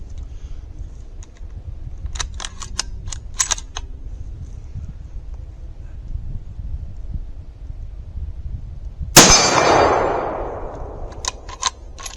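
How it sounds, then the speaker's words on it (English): A rifle fires once at a steel torso target about 50 yards downrange, a single sharp loud report with a decaying tail, amid faint clicks and handling sounds before and after. "I'm going to fire at the steel torso target, about 50 yards down there."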